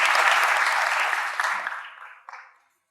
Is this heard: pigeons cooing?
no